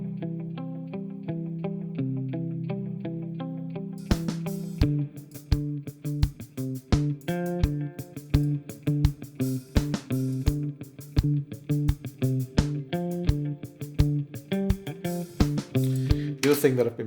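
Electric guitar played through a delay effect in Amplitube amp emulation: a sustained chord ringing alone, then rhythmic picked notes with repeating echoes trailing each attack, loud and close.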